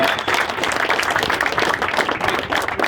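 A crowd at a Bronx civic gathering gives a round of applause for labor workers, a thick, continuous roar of clapping that stays loud and even throughout with no pauses.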